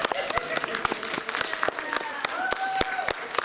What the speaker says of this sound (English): Can we have a round of applause for Ken's flying book?